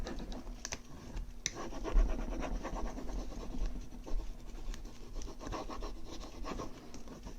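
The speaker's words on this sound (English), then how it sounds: "I'm going to continue to just rub on the rest of my transfer over top here" Steady scratchy rubbing as a transfer is burnished onto a wooden jewelry box, close and fairly quiet, in continuous strokes.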